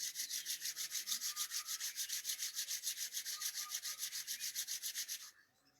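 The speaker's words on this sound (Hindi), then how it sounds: "अपने हाथों को आपस में रब करेंगे" Two hands rub briskly against each other in a steady back-and-forth rhythm, a soft, close, papery swish repeating about four times a second before it stops and fades into quiet.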